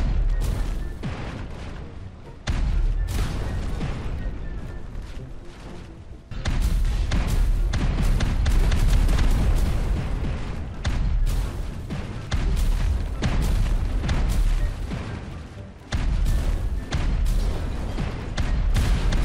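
Cannon fire in a tower-siege video game, with cannonballs launched at towers: repeated heavy booms and thuds come in dense bursts, loud and close, and keep going across the whole stretch.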